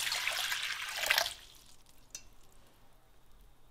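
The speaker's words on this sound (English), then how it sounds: "First, we're going to add our water into the pan." Water streams into a cooking pan with a bright, hissing rush that cuts off after about a second and a half, leaving a faint drip and low background hum.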